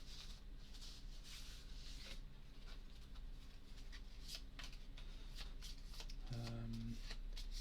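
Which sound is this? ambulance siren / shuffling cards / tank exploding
shuffling cards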